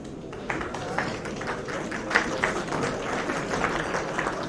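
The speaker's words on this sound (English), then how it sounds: "I think this is the time to clap." Dinner-hall audience applauding a shield presentation at an event honoring Pakistan–Southern Africa trade delegations and exhibitors: a dense, steady wash of many hands clapping, moderately loud, with a few sharper claps standing out.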